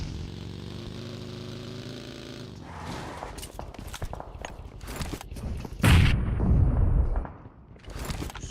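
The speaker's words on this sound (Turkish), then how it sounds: "Sağdan sağdan bomba geldi" Bomb explosions in the PUBG Mobile video game, a series of heavy booming blasts and sharp bangs that build to a loud, rumbling detonation near the end, heard alone over a steady game drone.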